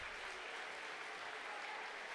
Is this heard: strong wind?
no